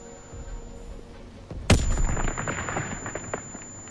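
A grenade goes off with a sudden loud boom in Call of Duty WW2, followed by a roll of scattered gunfire and debris that stays busy and fairly close for the rest of the moment.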